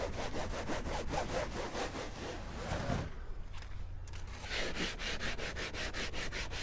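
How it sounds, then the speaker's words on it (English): A scrub brush scours a carbon fiber kayak hull in quick back-and-forth strokes, a steady rasping hiss with a brief pause partway through, close and fairly quiet. "But I hit it with the scrub brush"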